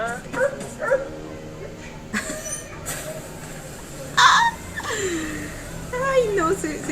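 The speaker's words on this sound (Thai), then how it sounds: "หมาในซอยมันเห่า" Dogs barking and yipping in an alley, with short barks and whimpers breaking through ongoing talk and a busy soundtrack, fairly close but mixed low.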